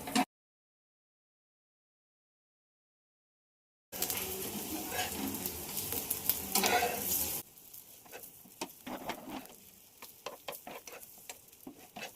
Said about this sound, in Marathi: आता हे मध्यम आचेवर सर्व बाजूने छान असे खरपूस भाजून घ्यायचे